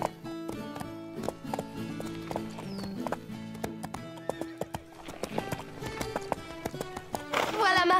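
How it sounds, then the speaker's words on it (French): Horse hooves clip-clop in an uneven rhythm, joined by a whinny, over a tuneful background with occasional voices, from the cartoon Horseland. "Nous voulons juste te voir monter à cheval."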